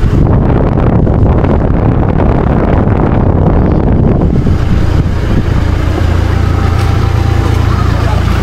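Strong wind buffets the microphone on Pangil Bridge, a loud continuous roaring rush over a low engine-like rumble.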